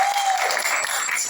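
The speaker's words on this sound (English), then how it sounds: "they will hear you if you can give them a round of applause" Loud, steady round of applause from an audience at a devotional hall programme, dense clapping without pause over its short span, with a faint tone near the start.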